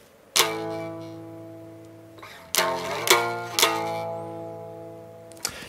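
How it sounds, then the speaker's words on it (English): Black metal riff on an unamplified-sounding guitar, a few hard strummed chords that ring and decay, followed by a quick cluster of three sharp strikes and a brief final hit, close and alone. "This is one of the riffs of the song"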